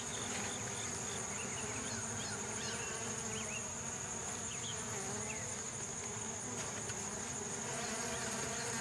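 Bees buzz continuously around a neglected, weather-damaged beehive, a dense steady hum with individual insects passing near, no voices.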